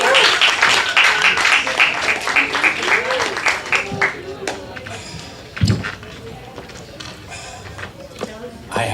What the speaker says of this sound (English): I want you to clap it up for Drew, everybody.